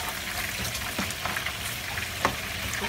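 Pasta mixed with mayonnaise is stirred in a pan, a continuous close sizzling hiss broken by a few soft scraping strokes, with no voices.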